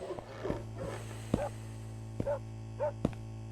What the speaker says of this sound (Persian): پارس میکنه سگه.